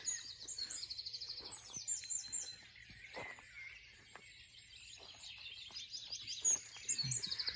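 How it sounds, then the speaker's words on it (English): Dawn chorus in a cottage garden on an April morning, with several birds chirping and singing continuously all around, layered overlapping calls at moderate distance over a faint low hum. "The birds are calling all around me."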